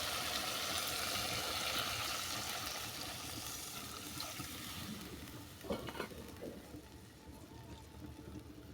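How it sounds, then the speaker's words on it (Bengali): Spice paste water is poured into a hot pan of fried, oil-releasing spice paste while making a rohu fish and cauliflower curry, loud sizzling that gradually fades, with a few stirring clinks near the end. "এরপর দিয়ে দিচ্ছি মশলা বাটা জল"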